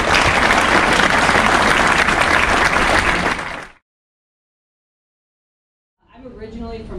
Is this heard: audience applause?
yes